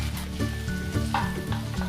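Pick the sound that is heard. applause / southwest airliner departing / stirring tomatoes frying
stirring tomatoes frying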